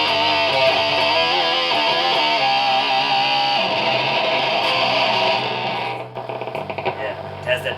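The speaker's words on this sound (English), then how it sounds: "the other fuzz pedal I have is the Blue Box by MXR. So this is an octave fuzz" Electric guitar through an MXR Blue Box octave fuzz pedal gives a loud, dense, buzzing distorted tone with a low octave. It sustains heavily before thinning out near the end.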